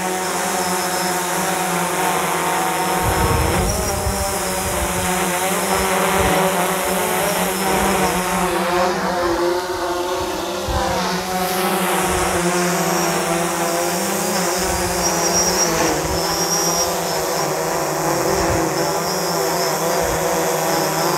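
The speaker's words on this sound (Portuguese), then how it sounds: "Vamos subir um pouquinho o drone." DJI Phantom 4 Pro quadcopter drone climbing overhead outdoors, a steady high propeller whine with a shifting pitch sweep midway, continuous and fairly loud over low background rumble.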